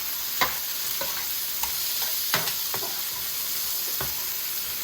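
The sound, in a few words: onions frying in a pan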